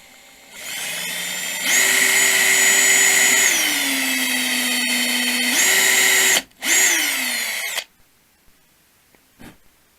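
A power drill whirs at steady speed boring a hole in wood for a shelf, winding down and spinning up again, with a short pause, then stops, leaving a quiet room with a couple of faint knocks.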